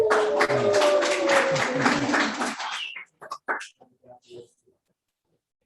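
A meetup audience applauds a speaker with dense clapping for about two and a half seconds, then it fades into quiet murmurs and a few scattered sounds.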